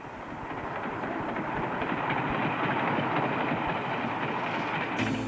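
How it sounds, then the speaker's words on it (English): An Amtrak passenger train races past at about 80 mph, a loud, steady rumbling rush of wheels and cars that builds and holds throughout before cutting off abruptly at the end. "including an Amtrak, which races by at 80 miles per hour"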